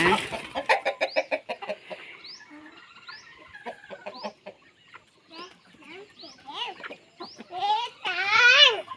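Chickens, young and full-grown, cluck and squawk at feeding time in a rural Thai yard, a rapid burst of close calls at the start, then scattered clucks building to louder, rising cries at the end.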